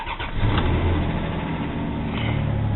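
A Dodge truck's engine starts cold in winter and catches at once, cranking briefly before settling into a steady, close, rumbling idle.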